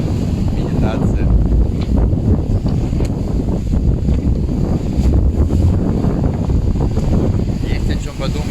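Wind and sea noise aboard a sailboat on the open Atlantic Ocean, a steady broadband rush with low rumbling gusts and water wash, continuous and close throughout.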